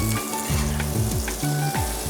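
Prawns fry in hot olive oil with garlic in a pan, giving a steady, dense sizzle with faint scraping as they are stirred, and no talking.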